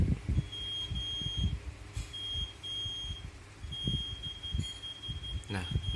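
A buzzer on an IoT water level monitoring simulation sounds in short high beeps, then a longer steady tone and a rapid burst near the end, over a low background hum with faint clicks.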